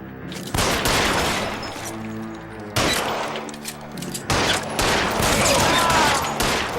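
Gunfire in a shootout in L.A. Noire, heard as loud, sharp volleys of shots in three or four clusters with ringing echoes and debris between them, close and alone.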